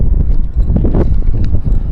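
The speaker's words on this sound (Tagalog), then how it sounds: "Lakas nga yung hangin." Strong wind buffets a terrace outdoors, a loud, rough rumble of gusts battering the microphone without pause, with faint rustling mixed in.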